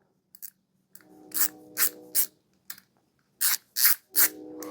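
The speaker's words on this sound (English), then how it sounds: "So if you're screwing something in, you don't have to reposition your hand every time. It just ratchets in place." A ratcheting screwdriver clicks in short separate bursts, about seven quick ratchet strokes with brief pauses between them, close and crisp with no talking.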